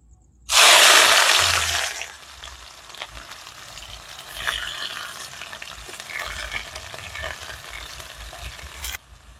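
Onions hit a hot pan with a sudden loud hiss that fades over a couple of seconds into a softer, steady frying crackle with occasional stirring scrapes, ending in a sharp clink.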